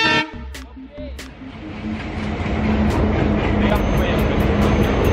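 The Mumbai Express arrives in a train video game, a rising rumble of rolling wheels that grows steadily louder and fills the second half, after an opening horn-like tone and brief voices.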